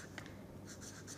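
A pen or chalk writes an equation by hand in a brief, steady scratching stroke against a soft background hiss.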